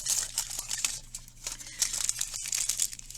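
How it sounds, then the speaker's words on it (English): Aluminium foil crumpled around a sculpture armature for a bronze animal piece, a dense run of crisp crinkling and rustling bursts that rise and fall close up, with no talking. "So I'm going to crumple around both areas"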